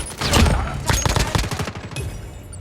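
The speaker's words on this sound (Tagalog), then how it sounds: "Sentry gun deployed." A deployed sentry gun in a video game fires a rapid burst of automatic shots, loud and close, with the rattle thinning out toward the end.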